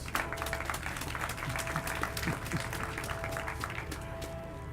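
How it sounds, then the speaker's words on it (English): Sustained applause from an audience at a pool reopening ceremony, many hands clapping steadily at moderate volume for the whole stretch, with no clear speech. "Let's give him a round of applause."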